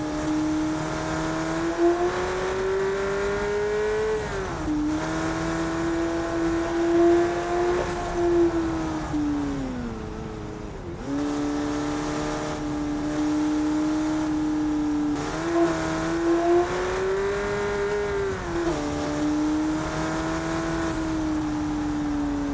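A car accelerates hard on a track with a strong, steady engine drone. The pitch rises repeatedly and dips at gear shifts over about twenty seconds, with no talking.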